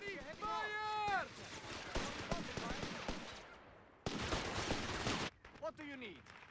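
Infantry rifle fire from Bersaglieri in Company of Heroes 3: dense, loud rattling volleys of gunshots and bursts, with shouted unit voices and whistling effects overlapping amid the battle din.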